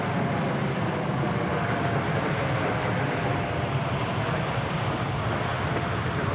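Steady broadband roar of a jet airliner landing at Sydney Airport, a continuous engine and air rush holding at an even, fairly loud level throughout with no talk.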